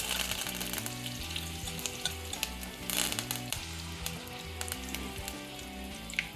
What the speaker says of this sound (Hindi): देखिए कैसे राई हो रहा है यहाँ पे गरम